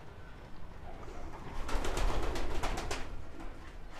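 Pigeons coo softly inside a male pigeon loft setup, with low murmuring calls building in the middle amid faint background rustle and a few brighter flutters or taps.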